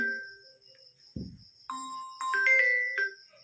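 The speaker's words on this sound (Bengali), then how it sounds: "পূজা ফোন করছে" An electronic phone ringtone plays a bright melodic run of rising tones over a steady high whine, with a short rustle partway through.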